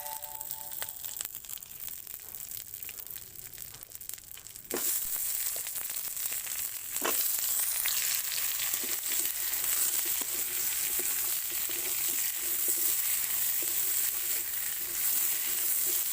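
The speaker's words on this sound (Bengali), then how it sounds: "তো ওই তেলের মধ্যে আমি বেগুনগুলো দিয়ে দিচ্ছি বেগুনগুলো দিয়ে ভেজে নেব" Eggplant pieces fry in hot oil in a home kitchen, a faint hiss that jumps to a loud, steady sizzle as the pieces go in, with a few stirring scrapes over the continuous crackle.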